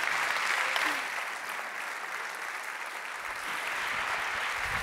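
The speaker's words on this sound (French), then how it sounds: "on applaudit" Audience applause at a school concert fills the room, a steady dense clapping that carries on throughout without a break, with faint voices mixed underneath.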